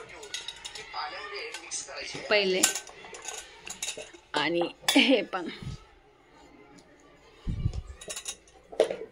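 Copper pots and metal utensils clink and clatter in a home kitchen in sharp, irregular bursts, loud and close, with people talking throughout.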